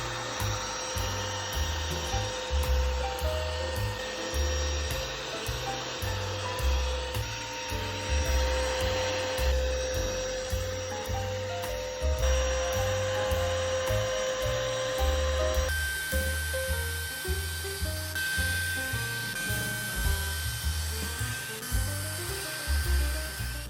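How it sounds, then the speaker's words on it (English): A Ryobi 18V ONE+ SWIFTClean carpet cleaner runs its roller to agitate the carpet and suck out the remaining liquid. It gives a steady, close whining hum with a pulsing low churn, and the pitch shifts partway through. "He turned on the roller to agitate the carpet and to suck out the remaining liquid"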